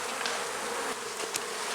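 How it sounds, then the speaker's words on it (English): Calm honey bees buzz in an opened hive, a dense continuous hum close by, with a couple of brief louder passes of single bees. "These bees are so well behaved"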